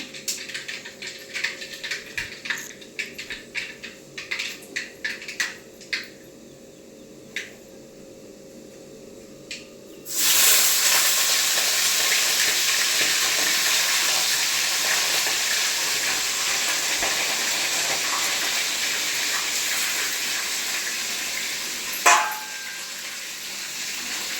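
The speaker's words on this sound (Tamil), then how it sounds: "தாளிக்க கடுகு பொறிஞ்சிட்டு இருக்கு எண்ணெயெல்லாம் ஊற்றியாச்சு" Mustard seeds in hot oil: quiet scattered pops and crackles give way to a loud, steady sizzle of seeds spluttering, continuing with a sharp burst near the end.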